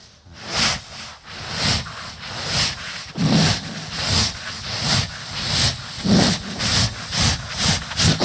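A person imitates a steam train with their voice, a loud breathy hiss pulsing in regular chuffing bursts just under one per second, close and alone.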